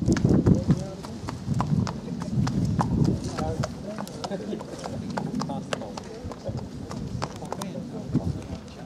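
Hooves of a Bahamian Bounty colt yearling at a racing yard parade clip-clop in a steady walking rhythm, close and clear, with people talking over them throughout.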